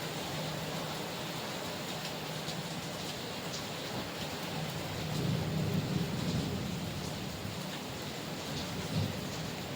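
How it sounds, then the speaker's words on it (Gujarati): Steady rain falls in a constant hiss, with a slightly heavier swell near the middle, no voices present. "મિત્રો વરસાદનો અવાજ સાંભળજો"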